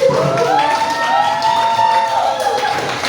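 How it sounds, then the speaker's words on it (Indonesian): A school audience of teachers claps and cheers loudly and continuously, with a rising whoop and excited shouts over a dense wash of applause. "beri tepuk tangan untuk"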